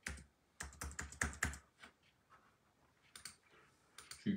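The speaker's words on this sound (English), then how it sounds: "A few clicks." Rapid bursts of computer mouse or keyboard clicks in quick clusters, fairly close and crisp, with short pauses between groups and no talking over them.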